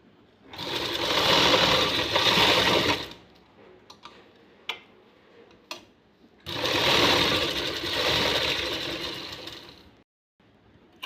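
Sewing machine stitching the edge of a blouse patti and its lining, two sustained bursts of steady fast running with a quiet pause of small handling clicks between, close and loud, no talking.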